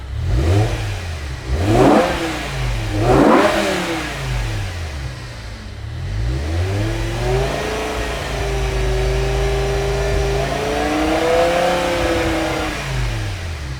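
A BMW M5 engine warming up after repairs revs hard three times in quick succession, then settles into a steady, rising and falling run with a whining tone, loud and close, with no talking.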